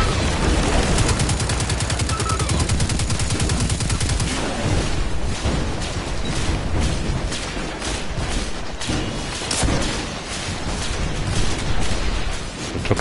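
Dense, loud gunfire rattles through a Destiny 2 Shadowkeep firefight, first as rapid automatic bursts and then as heavy, irregular shots and blasts that go on without a break.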